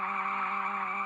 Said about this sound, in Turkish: Arabaların sesi çok kötü ya.